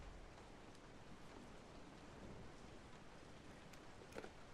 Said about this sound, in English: the weather has gone from somewhat sunny at twilight-ish to incredibly rainy and nighttime-ish.